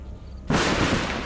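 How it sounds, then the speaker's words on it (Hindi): Thunder breaks suddenly from a low background into a loud, sustained rumble that fills the room during a stormy night scene in a Pakistani drama. "मुझे ना बादल के गरजने से बहुत डर लगता है।"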